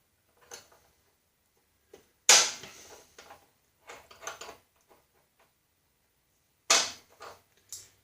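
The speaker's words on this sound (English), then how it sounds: "Now if we can pop this pin out of here" Sharp metallic pops and clicks as a pin is driven out of a worn, spring-loaded shift handle, a few isolated close knocks separated by quiet pauses.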